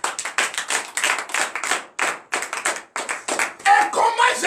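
A congregation at a Beninese morning prayer service claps in rhythmic bursts, loud and close, with brief pauses between phrases and voices rising near the end.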